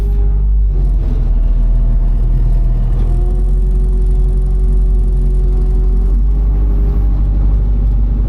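A farm tractor engine idles and then pulls away while turning, preparing for harvest. It gives a loud, close, steady rumble with a slowly shifting tone and no talking.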